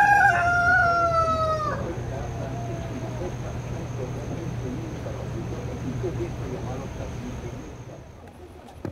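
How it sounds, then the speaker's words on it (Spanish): A rooster gives one loud, clear crow near the start, its call trailing off after about two seconds, followed by quiet household ambience with a steady low hum and a faint high tone. "les da la bienvenida el señor Gallo a este video"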